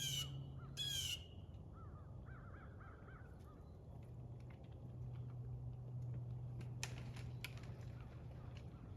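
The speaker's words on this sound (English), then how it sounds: "See, that's just what the eagle does." Harsh crow-like caws and squawks from a large bird sound close at the start, then several fainter calls follow over a steady low hum and background noise.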